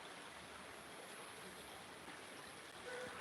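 Creek water flows steadily in an outdoor setting as a soft, continuous rushing hiss with no clear breaks, faint and even, with a slight rise near the end.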